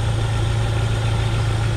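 Jeep Wrangler engine idling a little rough with its newly installed air conditioning compressor running: a steady low rumble and hum, close and continuous, with no talk.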